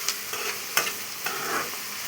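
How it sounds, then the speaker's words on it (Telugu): Onions fry with salt in a pan, a soft continuous sizzle broken by several stirring scrapes, close and fairly quiet. "ఇది అలా వేగుతుంటుంది."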